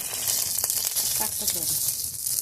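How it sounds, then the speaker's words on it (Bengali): Cabbage-based paneer frying in oil in a kadai gives a steady, close hiss of sizzling throughout, with a few soft crackles and light stirring scrapes. "আমি এটাকে একটু ভেজে নেব"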